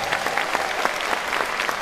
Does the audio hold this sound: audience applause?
yes